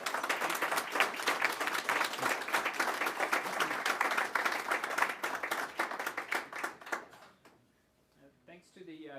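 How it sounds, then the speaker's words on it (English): An audience applauds after a talk at a geology meeting, dense continuous clapping that holds steady for several seconds, then thins to scattered claps and fades as a voice begins speaking. "Let's give Tom Chitsey another round of applause."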